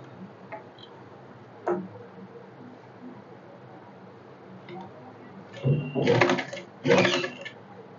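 A sewing machine stitches the fall onto a sari in two short close bursts of rapid mechanical clatter, after a few scattered ticks and clicks in a quiet room.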